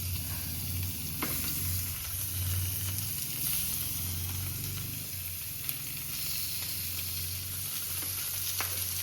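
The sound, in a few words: fish frying in oil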